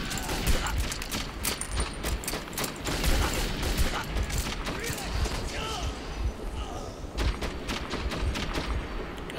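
Gunfire in the video game Metro 2033 cracks in repeated close bursts with thuds and mechanical clatter, irregular shots spread across the stretch, busiest at the start and again near the end.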